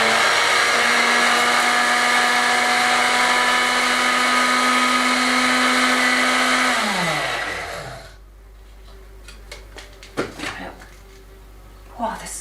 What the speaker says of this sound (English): So that's it in the grinder.